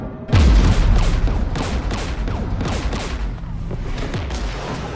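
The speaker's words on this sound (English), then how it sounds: "We're taking fire." Sustained gunfire from the Mass Effect 3 video game, with a heavy boom at the start followed by continuous dense shooting and explosions throughout, loud and unbroken.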